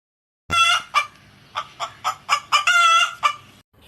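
A chicken clucks and squawks in a rapid burst of loud, close calls, pausing briefly between sharp bursts before a longer drawn-out cry.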